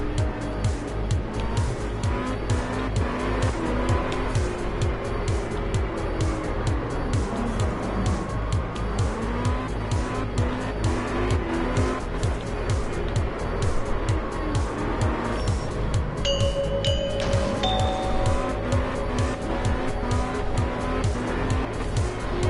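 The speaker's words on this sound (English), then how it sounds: "Just gotta drift through them until you fill the box." In the video game Absolute Drift, a car drifts with a sustained engine roar and repeated rising and falling tire squeals, loud and continuous throughout.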